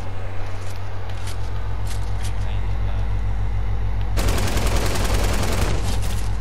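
Rapid gunfire in the Fortnite video game, a dense stream of shots that turns into a sharp, fast automatic burst partway through, loud over a steady low rumble with a voice talking alongside.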